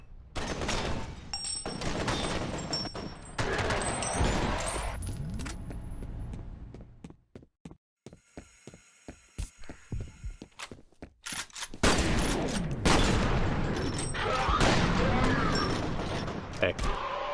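Bursts of automatic gunfire and single shots aimed at the player in the shooter game F.E.A.R., rapid cracking volleys in clusters with quieter gaps between, mixed with metallic clatter and a voice talking over parts of it.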